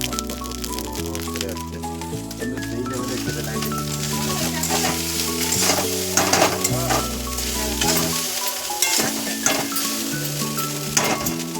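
Leftover soaked rice with turmeric fries in a pan, giving a continuous loud sizzle with occasional stirring clinks. A person speaks briefly over the frying, and background music plays underneath.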